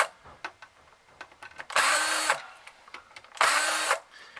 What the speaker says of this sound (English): Using an electric drill is just a lot quicker.